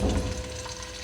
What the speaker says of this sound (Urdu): آئل ہمارا ہلکا سا گرم ہوتا ہے تو میں پیاز اس میں شامل کر دیتی ہوں